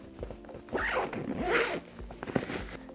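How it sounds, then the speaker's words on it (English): A zipper on a Nuna Tavo stroller canopy is pulled open in a couple of rasping strokes, close and clear, with some fabric rustle in between. "There's another zippered situation here, and you can unzip back here."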